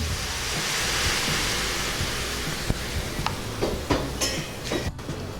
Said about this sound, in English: Now it's time for the hot water to be the part of this concoction.